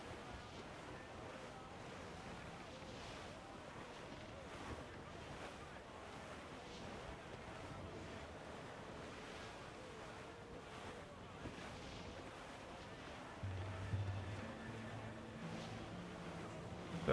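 Ship under sail on the open sea at night in Assassin's Creed IV: steady wash of waves and wind across the hull, a continuous low roar with a brief louder swell near the end, no voices.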